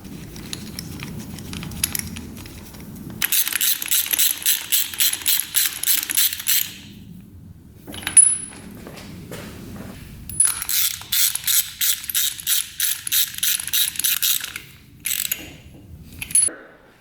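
Bolts being tightened on a Suzuki Quadzilla quad with a 750cc engine swap, a ratchet clicking in fast bursts up close, with short pauses and metallic taps between runs.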